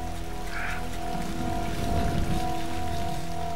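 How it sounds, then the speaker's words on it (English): Steady, dense rain hisses and roars continuously, with a constant low rumble underneath and no voices. "The rain's getting harder and harder."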